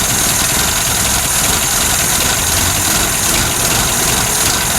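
Ford Capri MKI engine idling as it warms up, a loud, steady, rough mechanical drone with constant vibration, close by and uninterrupted.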